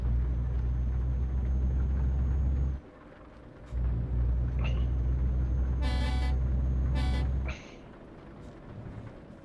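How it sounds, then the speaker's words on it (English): Truck air horns honking in a driving video game, two short bright blasts in quick succession over a steady low engine drone that drops out briefly. "These little air horns sound alright."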